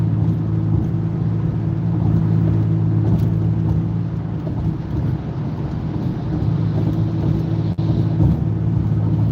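A car cruises on a highway at about 70 to 75 mph, a loud, steady low drone of engine, tire and wind noise inside the cabin with one brief sharp click near the end.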